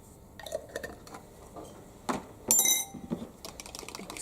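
Clinking and scraping of a spoon in a bowl as chili is mixed into a cheese bake filling, with soft irregular taps and one brighter clink, close and fairly quiet.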